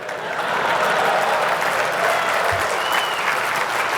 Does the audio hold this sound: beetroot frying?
no